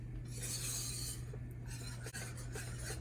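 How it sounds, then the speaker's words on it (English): American cheese and cheddar melting into a sauce in a pot, stirred with a steady soft scraping and rubbing of the utensil, faint and close, with no talking. "We're just gonna keep stirring this as the American cheese and cheddar continues to melt out"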